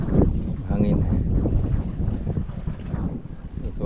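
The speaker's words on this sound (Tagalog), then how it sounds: "Hangin." Wind buffets the deck of a moving boat with a steady, rough, close rumble, and faint voices are mixed in underneath.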